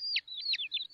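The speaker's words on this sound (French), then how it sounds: "Ces bébés oiseaux ont l'air d'avoir faim." Hungry baby birds in a nest in a cartoon chirp in quick, high, sweeping tweets, a rapid run of close, clear calls with no talking.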